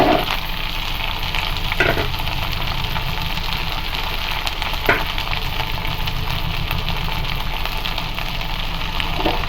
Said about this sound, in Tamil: போட்டு நம்ம எண்ணெயிலே நல்லா ஃப்ரை பண்ணலாம்.